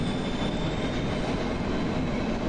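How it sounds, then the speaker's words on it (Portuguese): A train runs steadily in the horror video game Cry of Fear, a continuous, loud rolling rumble with faint clatter and no breaks. "como é que liga o trem?"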